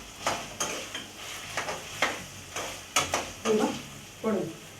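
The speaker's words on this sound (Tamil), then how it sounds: "வெங்காயம் நல்லா வதக்கணும்" Onions sauté in a pan with salt, heard as a series of sharp stirring scrapes and spatula knocks against the pan over a soft, low sizzle, roughly one stroke every half second.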